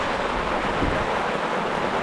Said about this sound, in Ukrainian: Дощ, то ливень.